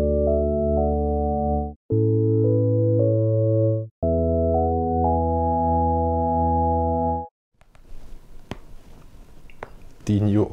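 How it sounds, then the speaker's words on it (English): An electric piano voice from the Audanika music app plays sustained chords in three phrases with brief gaps, smooth and loud, followed by a few seconds of quiet clicks and handling noise. "And I will show you E-piano,"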